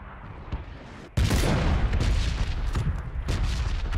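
A single loud gunshot from an M24 sniper rifle on the desert Miramar map, bursting in sharply after a quieter stretch of ambience and followed by sustained rumbling game noise.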